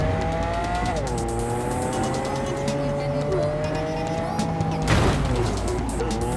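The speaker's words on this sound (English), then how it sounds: "I've got myself a goddamn fast car." A fast car in Cyberpunk 2077 roars steadily at high speed, its engine pitch rising between shifts, with a brief tire squeal near the end.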